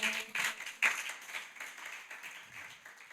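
A church congregation applauds during a midweek service, with scattered claps that start crisp and loud and then settle into a softer, fading patter.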